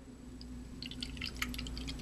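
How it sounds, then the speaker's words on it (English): Water poured into the top of a plastic water sprayer jug, heard as faint trickling drips and small splashes building up over a steady low hum, with no one talking. "we can pour water in the top"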